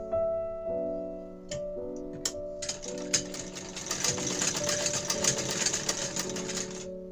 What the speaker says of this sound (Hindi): हम सिर्फ ये इधर की साइड सिल लेंगे दोनों ऐसे